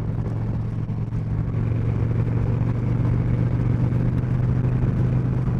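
A Honda Shadow 750 Aero motorcycle ridden on a commute, a steady low engine rumble and road noise that hold at an even level throughout, with no talking.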